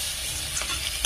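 A spoon stirs a prawn and bean curry frying in a pan, scraping briefly against the metal over a steady, close sizzle.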